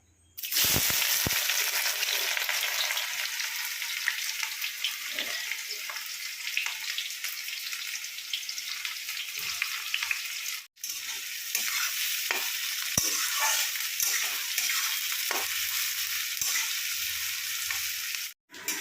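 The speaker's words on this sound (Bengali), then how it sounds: "পিঁয়াজটা কিন্তু একটু লাল লাল করে ভাজতে হবে" Onions frying in hot oil with caramelized sugar give a loud, dense sizzle with stirring scrapes throughout, broken by two brief pauses; no one speaks.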